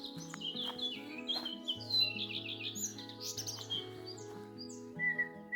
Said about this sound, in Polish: te ptaki to są naprawdę no, szok